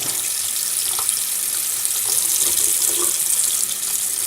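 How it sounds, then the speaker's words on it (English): Warm water running from a kitchen tap into a sink, a steady close splashing hiss with small gurgles throughout, no voices. "we are going to get some water that's warm but not hot"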